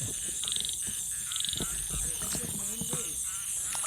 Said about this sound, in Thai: กบครับพี่น้อง